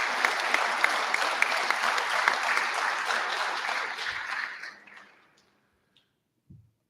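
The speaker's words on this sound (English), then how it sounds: "So a round of applause for those volunteers" An audience at a regional science and engineering fair applauds for volunteers, steady dense clapping that fades out after about four and a half seconds, followed by near silence and a couple of faint knocks.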